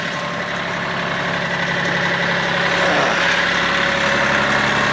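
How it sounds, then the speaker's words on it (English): A ranch tractor engine idles steadily with a constant low rumble and drone, close and unchanging throughout with no talk. "As you can see, I'm alone in my tractor right now."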